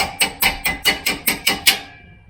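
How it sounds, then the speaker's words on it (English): A makeshift hammer strikes metal during a truck shock absorber install, seven sharp evenly spaced blows at a steady rhythm, close and loud, the last one ringing out briefly. "And then I'm going to use this as a hammer."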